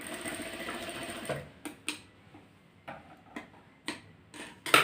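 Sewing machine stitching small dots on fabric, a run of fast needle chatter followed by isolated single clicks as short bursts are stitched, quiet and close.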